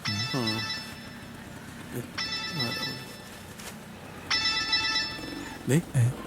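A telephone rings in three separate bursts of bright electronic trilling, close and clear, with voices briefly heard between and after the rings.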